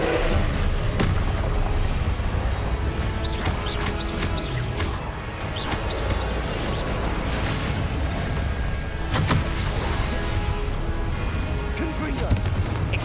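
Repeated Confringo fire-spell blasts from the video game Hogwarts Legacy go off as booming explosions over dense, continuous battle noise, with short bright bursts scattered through the clip and no spoken voices.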